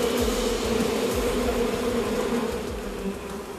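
Honeybees buzz steadily and densely around their hives during a move to Gangwon Province, a continuous close swarm drone that holds for the whole stretch with no voices.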